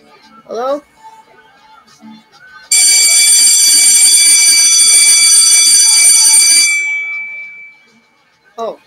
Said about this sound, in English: It's the bell ringing.